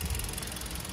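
A 2021 Kia Soluto Deluxe engine running while the car stands still, a steady, even mechanical hum with no voices over it.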